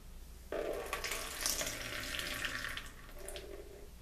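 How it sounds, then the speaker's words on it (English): Melted butter poured into a salmon croquette mix, a soft steady trickle that starts abruptly and runs for a few seconds, close and quiet, with no voices. "We're going to add that melted butter"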